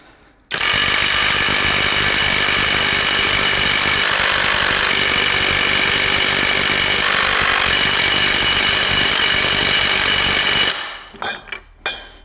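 A DEVETECH CIW-500 cordless impact wrench on third speed tightens a nut in one loud, dense, continuous burst of rapid hammering that lasts about ten seconds, then cuts off into a few brief clatters.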